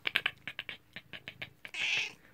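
A person imitates a cat's chattering noise, a quick run of soft, clicking stutters in an even rhythm, ending in a short breathy hiss, close and fairly quiet.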